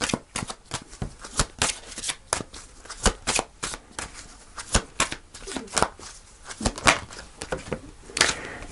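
Tarot cards being shuffled by hand, a rapid run of crisp riffling snaps and slaps at close range, coming in irregular bursts across the whole stretch with no talk over them.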